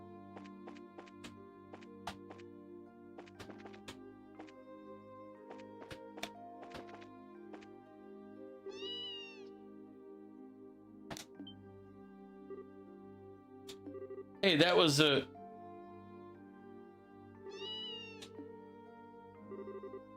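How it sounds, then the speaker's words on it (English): Cat meows in an RPG featuring Estelle, heard as a few short cries scattered over steady game music and soft taps, with one louder, brighter yowl standing out partway through. "Come on, let's find this freaking cat and get out of here."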